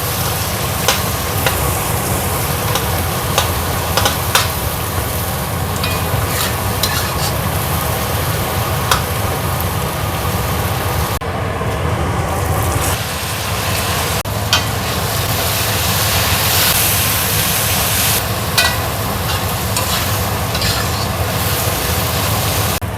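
Shallots and garlic sizzle in hot oil in a wok for Indonesian oseng mercon, a steady loud frying hiss with scraping stirs and occasional clinks, continuous throughout.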